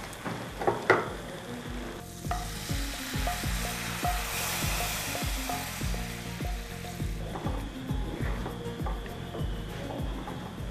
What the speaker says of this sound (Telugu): సో ఇప్పుడు మనం జీడిపప్పు బాదం పిస్తా ఫ్రై చేసుకుంటున్నాం కదా